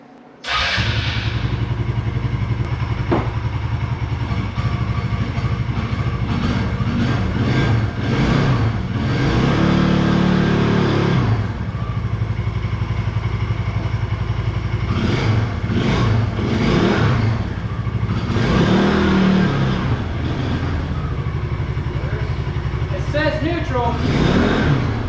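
A RZR 170 off-road vehicle engine, rebuilt after a transmission failure, idles and revs loudly while being tested in gear, with repeated rises in engine pitch over a steady mechanical drone, close by.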